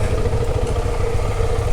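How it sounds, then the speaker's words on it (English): A Honda CRF300 motorcycle riding off-road on a rough Australian adventure track, its engine a steady close-range drone with rumbling clatter throughout. "We've got Sean over there on that CRF300 Nugget."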